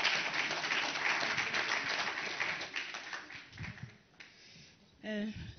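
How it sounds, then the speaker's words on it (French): Audience applause at an innovation awards ceremony, a full burst of clapping that tapers off over a few seconds into scattered claps before a voice starts speaking. "Sous vos applaudissements, s'il vous plaît."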